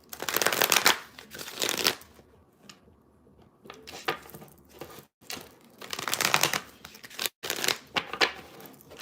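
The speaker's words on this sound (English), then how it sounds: "One more shuffle." Tarot cards are shuffled in several quick riffling bursts, crisp and close, separated by brief pauses and light handling noises.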